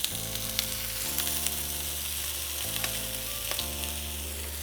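A birria quesa taco frying on a griddle gives a steady, close sizzle with a low hum underneath and occasional crackles and pops, with no talking.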